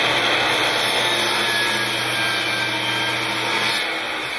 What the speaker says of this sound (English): the depth that the saw blade comes into the wood changes because it's a longer cut